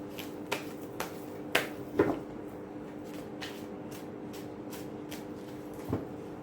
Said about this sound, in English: I'm going to remove 3 cards for Pisces now